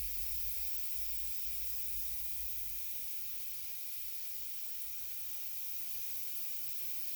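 An airbrush sprays a silver metallic base coat, giving a steady, even hiss that runs without a break from start to finish, fairly quiet and with no voices.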